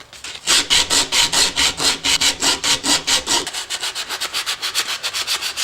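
Sandpaper rubbed back and forth over a curved prop shape, a steady run of about two dozen rhythmic rasping strokes, close and loud, speeding up slightly partway through, with no talk.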